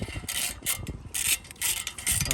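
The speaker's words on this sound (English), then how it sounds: "You could use a socket and wrench to quickly zap those off" A socket wrench is ratcheting loose small bolts, giving rapid clicking bursts in several short runs separated by brief pauses, close and fairly loud.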